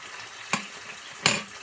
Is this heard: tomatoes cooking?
yes